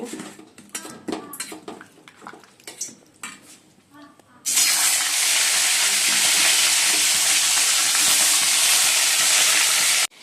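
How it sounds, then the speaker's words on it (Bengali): Fish heads drop into hot oil in a wok, and after a few seconds of clattering pans and utensils a loud, steady, close sizzle takes over and continues unbroken to the end. "চলো মাথাগুলো ভেজে নেবো, মাছের মাথা"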